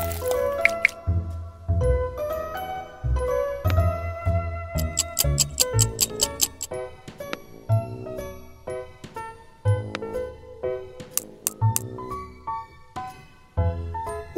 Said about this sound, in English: I pour the jelly mixtures into the egg mold one by one in rainbow order.